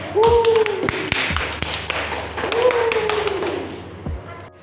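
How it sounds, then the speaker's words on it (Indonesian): Students in a classroom during a chemistry microteaching lesson clap for a classmate, giving sparse, sharp claps in a loose rhythmic pattern, close by, while voices sing or call out alongside them. "Berikan tepuk tangan kepada Rahim."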